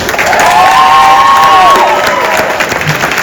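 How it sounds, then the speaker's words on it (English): Applause and cheering from the crowd at a cancer fundraiser night, loud and close, with a voice whooping over the steady clapping before it settles into continuous applause. "can I just get one big round of applause for Daniela?"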